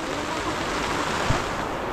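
Rain falling on a tent, a dense steady hiss of drops drumming on the fabric with one soft thump, close and continuous with no talk.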